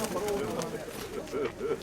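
A pigeon coos softly nearby in a few low, rolling calls, with people talking in the background.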